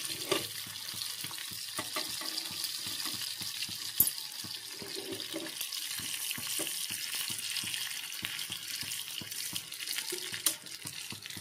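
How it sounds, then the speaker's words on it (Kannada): Mustard seeds, garlic and curry leaves fry in hot oil as a tempering for sambar, giving a steady crackling sizzle with scattered sharp pops and faint stirring clatter close by. "ಸಾಸಿವೆ, ಬೆಳ್ಳುಳ್ಳಿ ಮತ್ತು ಕರಿಬೇವು 3 ಸೇರಿ ಈ ಸಾಂಬಾರಿಗೊಂದು ಒಗ್ಗರಣೆ ಹಾಕಬೇಕು."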